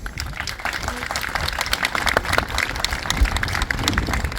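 A crowd at a Templar reenactment claps at moderate distance, a busy, uneven patter of hands mixed with a faint murmur of voices, fairly soft and continuous throughout.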